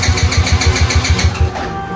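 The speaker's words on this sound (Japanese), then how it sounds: "まずセルのスイッチオン" The electric starter of a cheap buggy with a fault cranks its engine in a fast, even chugging rhythm, loud and close, before the cranking trails off.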